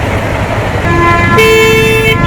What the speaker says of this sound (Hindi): ना तो लड़ रहे हैं ना कुछ, ऐसी ट्रैफिक जाम किया हुआ है।